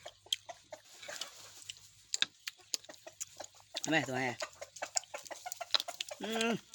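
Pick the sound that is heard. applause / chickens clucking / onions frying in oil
chickens clucking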